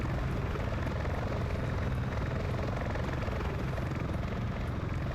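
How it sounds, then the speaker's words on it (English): Military helicopter in a video game banking away, a loud continuous rotor and engine roar with steady blade chop, holding at constant intensity. "that one's going to start coming in as that chopper's banking out"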